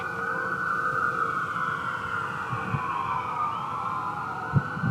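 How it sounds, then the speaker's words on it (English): Emergency vehicle sirens wailing with rising and falling tones, fairly loud and continuous, with a few low thumps in the background. "The airplanes and the sirens are coming at the same time."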